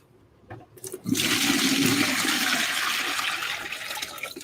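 Water pours and rushes loudly and steadily as a water scoop is dipped into a shrimp tank, a brief quiet lead-in followed by a sustained splashing gush that slowly tapers.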